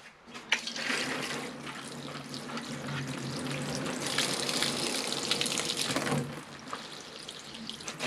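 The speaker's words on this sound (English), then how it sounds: "Water it through, you can see it coming through at the bottom, taking all the dusty particles out with it as well." Water poured steadily over a freshly repotted trident maple bonsai, a continuous close gushing and splashing through the soil for several seconds before easing off.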